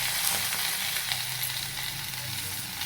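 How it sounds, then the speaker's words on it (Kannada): Green chillies shallow frying in oil in a covered pan give off a steady, even sizzle with fine crackles that lasts the whole time, close and unbroken, with no voices. "ಈ ಥರ ಮುಚ್ಚಿಟ್ಟು ಶಾಲೋ ಫ್ರೈ ಮಾಡಬೇಕು."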